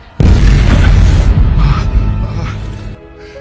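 A bomb detonates in a film scene: a sudden, very loud blast followed by a long, rumbling decay that fades out after about three seconds.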